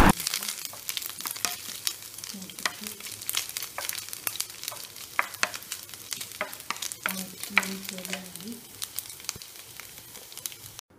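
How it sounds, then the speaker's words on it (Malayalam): Grated coconut stirred as it fries in ghee for homemade papaya halwa, with a steady sizzle and repeated scraping strokes of a spoon against the pan. "തേങ്ങ പൊത്ത് വറുക്കാനായിട്ട് നെയ്യിൽ ഇട്ട് ഇളക്കണം."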